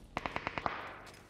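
Gunfire in PUBG on the Miramar map: a quick burst of six evenly spaced sharp shots followed by a short fading echo, heard alone.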